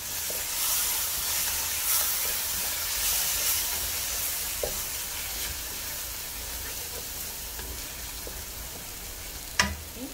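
A blended masala paste cooks in oil over a low flame, giving a constant sputtering sizzle with light stirring taps and one sharp clink near the end.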